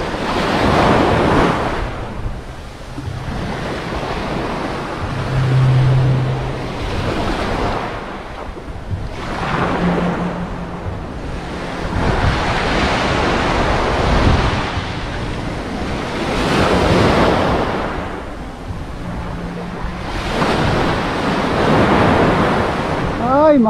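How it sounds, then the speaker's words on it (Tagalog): Strong gusting wind at a seashore while fishing, roaring in broad swells over crashing surf, with the wind buffeting the microphone throughout and a faint voice briefly underneath. "Medyo mahangin."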